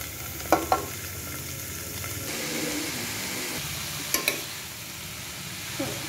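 Cabbage is tipped onto fried onions and green chili and stirred in a pan, a continuous close sizzle with a few sharp spoon knocks against the pan.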